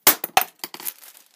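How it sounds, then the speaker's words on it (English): Crinkly plastic packaging on a Dollar Tree valentine card being torn open: a few sharp, close crackles and rips up front, then fading softer rustles. "give me all the extra crinkly plastic. How do you open these things?"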